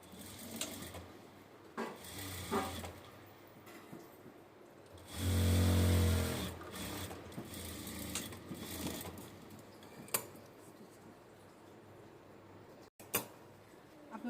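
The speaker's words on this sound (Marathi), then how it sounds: "स्टिच मारून घेऊ." A sewing machine stitching a blouse sleeve runs in one short, loud burst of just over a second midway, surrounded by quiet cloth handling and small knocks.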